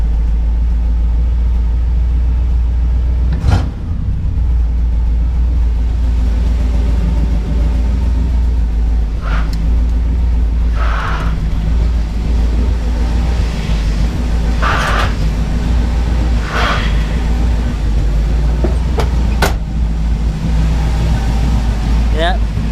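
A 1978 Ford Bronco's 351M V8 idles low with its idle set too slow, a steady, loud, close rumble held for over twenty seconds, broken by a few faint clicks and knocks.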